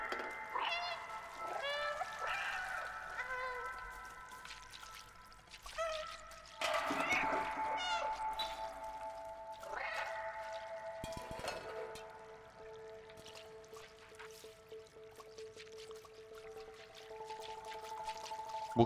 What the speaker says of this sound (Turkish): Miyavlama tuşu var.